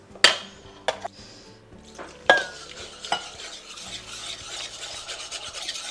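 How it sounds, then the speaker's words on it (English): A big whisk beating thick batter for crispy cauliflower against the side of a bowl, with a few sharp clinks at first, then steady close scraping and swishing strokes. "or you can use a big whisk"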